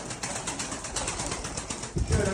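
Pigeons cooing and fluttering outdoors amid a busy, noisy background, with a louder burst of wing flapping near the end.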